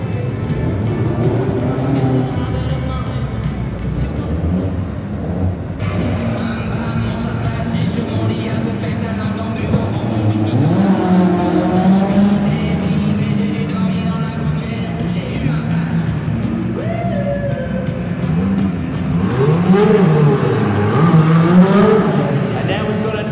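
A Ferrari racing car with a Dino engine mounted just behind the seats drives past in a classic car show parade in London, its engine droning steadily while a commentator talks over it throughout.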